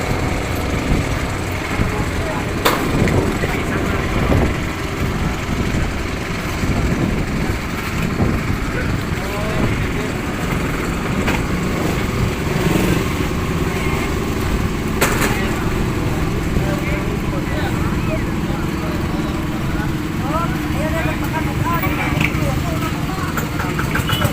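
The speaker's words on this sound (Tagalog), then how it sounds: "puro maririnig mo rito puro mga generator na lang" Generators run steadily in a coastal town during a power blackout, a continuous mid-pitched engine drone under nearby talking, with occasional knocks and clatter over the hum.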